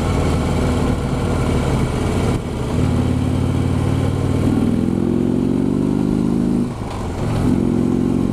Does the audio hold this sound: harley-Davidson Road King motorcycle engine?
yes